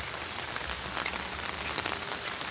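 Steady rain patters on a surface, a dense, even hiss of drops at moderate volume with no voices.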